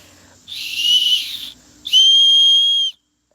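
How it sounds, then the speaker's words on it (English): A whistle blown hard outdoors in a field gives two loud, shrill blasts: a wavering one lasting about a second, then a steadier, sustained one of similar length, with quiet between them. "I'll use this whistle and call his ass up out the woods."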